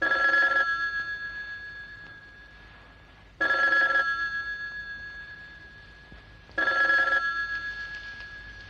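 A telephone bell rings three times, each ring a bright, brief burst followed by a slowly fading tail. The ringing is alone in a quiet room, with no talk.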